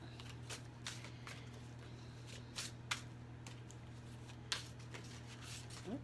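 Tarot cards being shuffled by hand before a reading: soft, close riffling and sliding with scattered sharper snaps over six seconds, faint against a low steady background hum, with no talk.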